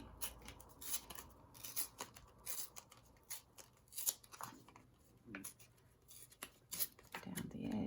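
Printed paper scraps are torn by hand in short, uneven ripping and crinkling bursts, close and fairly quiet, with pauses between pulls and some rustle at the end.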